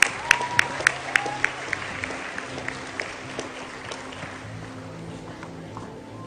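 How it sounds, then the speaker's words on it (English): Audience applause at a school Model United Nations ceremony, starting with a few distinct sharp claps over a dense, fairly distant wash of clapping that fades gradually. "Please give them a big round of applause."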